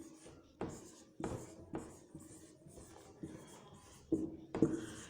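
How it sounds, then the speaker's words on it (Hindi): Numbers written by hand on a surface, likely chalk or marker strokes, come as a series of short scratchy strokes roughly every half second, close and fairly quiet, with no talk. "तो मैं आपके सामने नंबर लिखती हूं।"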